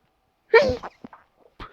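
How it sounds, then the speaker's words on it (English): A single sharp sneeze up close after a moment of silence, followed by a few faint breaths and small sounds. "Sorry, I had to sneeze there."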